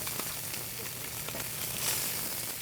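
Mackerel (godeungeo) grilling as gogalbi in an old Busan alley eatery, a steady close crackling sizzle with scattered sharp pops and a low hum underneath, no voices.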